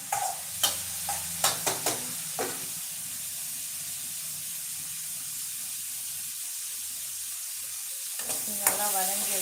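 Masala sizzles loudly in a pan for green gram curry, a continuous close frying hiss broken by several sharp scraping stirs early on and again near the end.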